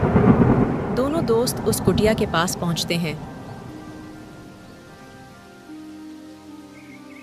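Rain and thunder from a storm outside a hut, a loud rumbling wash through the first half that fades to a softer steady patter, with a narrator speaking over it.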